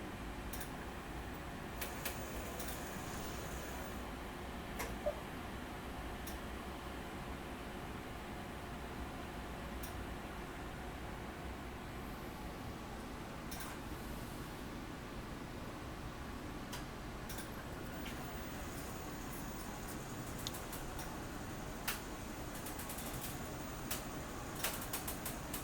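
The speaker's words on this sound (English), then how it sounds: "once it finishes printing, you can actually see it slide back there and it'll expose it" A CTS i-Image STE screen imager hums faintly and steadily while printing and sliding a screen back to expose it, with sparse small mechanical ticks and clicks scattered across the run.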